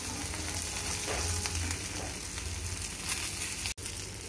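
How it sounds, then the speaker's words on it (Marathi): Pieces of halwa fish frying in hot oil, a dense, continuous sizzle close up with slight swells in intensity and a brief dropout near the end, with no voices. "दोन्ही बाजूने छानपैकी फ्राय करून घेणार आहोत।"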